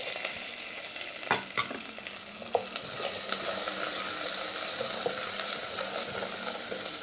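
Small onions sizzle steadily in hot tempering oil alongside curry leaves, a dense continuous frying hiss with a few sharp pops and stirring clicks early on, close and fairly loud with no voices.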